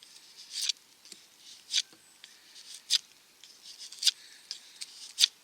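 A knife slices through the air in a series of quick, crisp swishes, about six sharp strokes spaced a second or so apart, close and fairly light against a quiet background.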